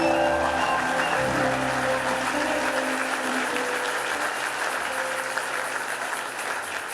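A standing church congregation at a gospel gathering claps together in a sustained, even round of applause that stays loud and dense for about seven seconds, with faint murmuring beneath it.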